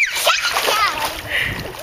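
A child slides down a slippery backyard water slide and splashes hard at the bottom, producing a bright, close burst of spraying and sloshing water, with a voice mixed in.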